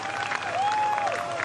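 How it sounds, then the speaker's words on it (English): Golf spectators at the Maybank Championship break into steady applause for a birdie, a dense spread of clapping that holds evenly throughout, with a faint tonal whistle passing through the middle. "Crowd loving it"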